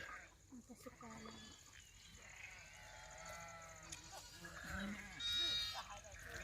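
Faint sheep bleats rise now and then from a distance from a shepherd's flock, mixed with quiet talking and soft outdoor background noise.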